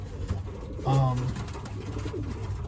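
A racing pigeon's low, throaty coo rises clearly for a moment in a loft, over soft background murmur and faint rustling nearby.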